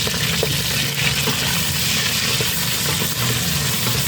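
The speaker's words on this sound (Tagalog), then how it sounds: "igisa na natin yung sibuyas at kamatis" Onions and tomatoes sauté in a hot pan for Ilokano-style pinakbet, a steady close sizzle and crackle of frying running unbroken throughout with no talk.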